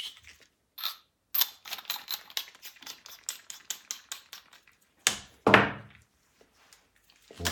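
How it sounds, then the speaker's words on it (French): A reamer cuts through a plastic RC car part for a Traxxas X-Maxx LED kit, giving a rapid series of sharp ratcheting clicks and scrapes, with a couple of louder rasping strokes near the end, close and alone. "quand on perce avec un rimmer"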